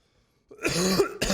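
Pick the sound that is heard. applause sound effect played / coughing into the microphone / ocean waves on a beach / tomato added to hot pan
coughing into the microphone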